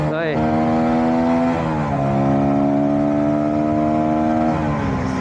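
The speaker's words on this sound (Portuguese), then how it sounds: "Para uma 125 estou a amar o som desta moto" A Voge 125R 125cc motorcycle engine runs loud and close, its pitch stepping up and down through a few revs, steady throughout.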